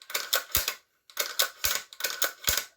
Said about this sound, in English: just working that bolt right out of the box